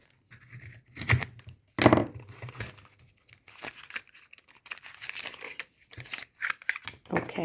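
Scissors cutting open a small nail-supply package, with crinkling plastic and a few sharp snips and tears in quick bursts, close and moderately loud, some pauses between cuts.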